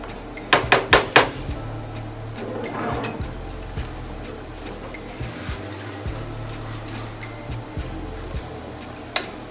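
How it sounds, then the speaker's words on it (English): A utensil scrapes and clanks against a pan while shrimp cauliflower rice is stirred, with a quick run of sharp metallic knocks at the start, then softer intermittent scraping and clinks. "Let's actually stir this a little bit more before I add the shrimp."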